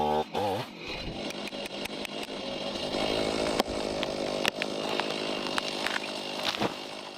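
A chainsaw felling small trees standing close against a building, its engine snarling loud and steady after a brief start, the pitch shifting as it bites into the wood.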